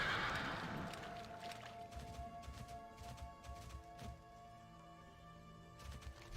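A horse mount neighs loudly at the start in World of Warcraft, a drawn-out whinny, then hoof clip-clops and game effects continue underneath.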